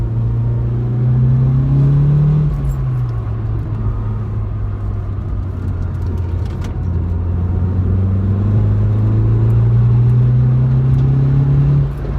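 A 300bhp Audi S1 pulls away with a deep, steady engine rumble that swells and eases as it accelerates. The engine fills the cabin with no speech over it.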